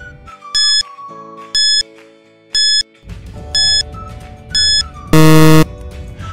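A quiz countdown timer ticks over a soft electronic music bed, with five short regular beeps about a second apart, then a longer, louder buzzer tone marking the end.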